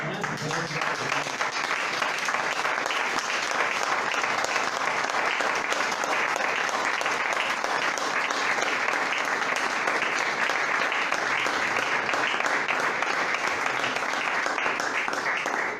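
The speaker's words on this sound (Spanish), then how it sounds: "Den un aplauso al Señor." Church congregation breaking into sustained, loud applause that fills the room steadily from start to finish, with no speech over it.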